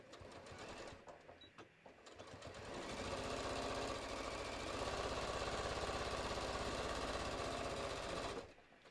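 A sewing machine stitches bucket hat fabric pieces at a half-inch seam, with a few handling clicks first, then a steady, close, rapid mechanical chatter for about five seconds that stops abruptly.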